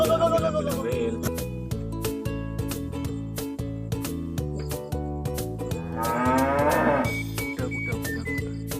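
Cattle moo among farm livestock sounds, two drawn-out bellowing calls standing out over a busy, layered background, fairly close and loud with no one speaking.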